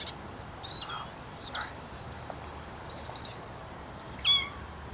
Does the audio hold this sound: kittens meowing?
yes